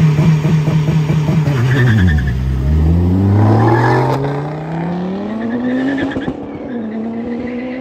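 A Chevrolet Caravan owned by a driver nicknamed Alemão launches on a drag strip, its engine revving hard, dipping, then climbing through gears in a loud, rising roar as the car pulls away.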